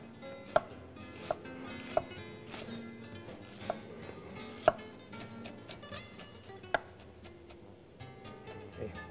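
Garlic chopped finely with a knife on a cutting board, several crisp, irregular knife strikes close by over a soft background hum, with faint voice-like murmur underneath.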